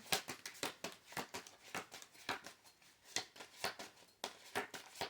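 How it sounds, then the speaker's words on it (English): Tarot cards are shuffled by hand in quick, repeated riffling bursts, soft and close with an uneven rhythm and short pauses between handfuls. "I am such a baby about shuffling right now."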